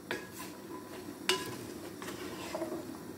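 A utensil stirs vegetable stalks in a cooking pot for a Sylheti dish with dried fish and shrimp, giving scattered close clinks and scrapes against the pot, with one sharper knock, over a low steady background.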